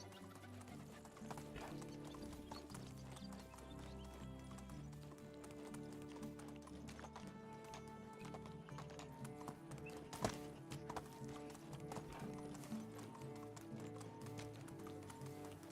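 Steady hoofbeats of a horse galloping in the medieval life-sim game Medieval Dynasty, a continuous clip-clop running under a dense layer of game music with no pause.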